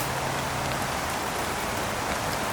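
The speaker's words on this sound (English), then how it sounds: "Raining out a bit, but not too bad in the woods." Steady rain falls in the woods, a dense even hiss of drops pattering close and continuous with no voices.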